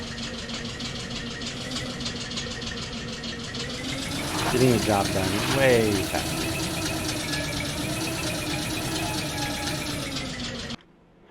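A steady, rhythmic chug of a tractor engine in the video game Eco runs throughout, with a brief rising rev in the middle, while a person talks over it.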